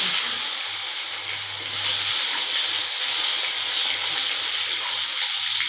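Tomatoes drop into a hot spice tempering for a vegetarian potol and potato curry, giving a loud, steady hiss and sizzle that runs close and unbroken throughout, with a low intermittent hum beneath.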